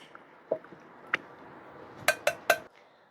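Chicken breast being mixed with plain yogurt marinade in a bowl: soft wet squishes and a few light clinks of utensil on the dish, three quick sharp taps near the end, quiet and close, no talk.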